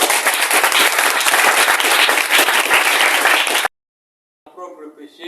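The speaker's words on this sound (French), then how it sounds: "Nous acclamons encore." A church congregation applauds loudly and steadily for several seconds, then the clapping stops abruptly; after a short silence, voices begin.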